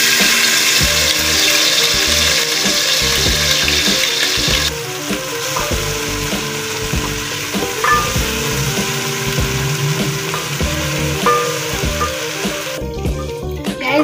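Chili and garlic paste hits hot cooking oil with a loud, close, continuous sizzle and spatter, dropping to a softer steady fry after a few seconds, with occasional clinks of a utensil.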